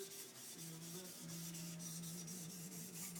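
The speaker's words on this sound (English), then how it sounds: "I have a Japanese kitchen knife here and a piece of nagara, which I'm going to use to polish the blade." Quiet steady rubbing and rasping as a nagura stone polishes the blade of a single-bevel laminated traditional Japanese kitchen knife, a continuous soft scrape with a faint hum beneath, no voices.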